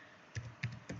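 Three quick, close keystrokes on a computer keyboard while an account number is entered, soft clicks evenly spaced in a quiet room.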